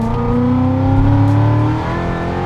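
A 2012 Corvette 4LT with a Lingenfelter upgrade accelerating hard away from a stop sign, its loud, close engine note rising steadily through the pull with no talk over it.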